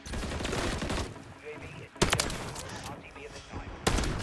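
Shots from a Lockwood 680 shotgun in the video game Modern Warfare 3 crack out in loud, sharp bursts, two of them prominent, over dense game noise, with voices talking at times.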